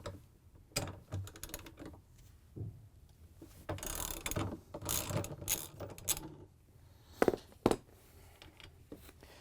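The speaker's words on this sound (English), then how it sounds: "We're going to use a socket and take it off." A socket ratchet clicks while loosening a 17mm nut on the rotor of a Samsung washer drive motor, in several bursts of quick ratcheting, close and fairly loud, separated by short pauses.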